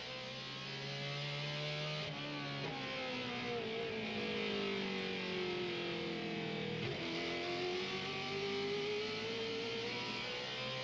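Race trucks at Martinsville in the 2000 NAPA 250 roar past in a steady, loud engine drone, with pitch sweeping up and down as they accelerate and lift through the corners, continuous throughout.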